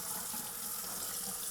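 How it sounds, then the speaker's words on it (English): Warm water runs from a tap over a steel wool scouring pad, a steady close hiss of flowing water with no speech. "Wet it with some warm water."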